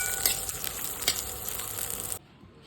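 Green chillies and garlic roasting in oil for a peanut chutney, a close, steady crackling sizzle with a couple of sharp pops, cutting off abruptly near the end, no voices.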